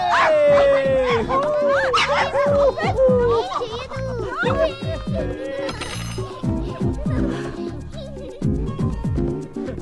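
A small dog whimpers and yips amid loud, overlapping voices, with a child's cries mixed into the commotion close by.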